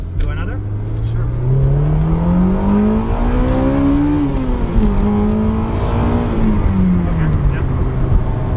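A Honda S2000 AP1 with its F20C engine revs hard above 6,000 rpm, the loud high-pitched wail climbing, easing back and climbing again in sweeping waves.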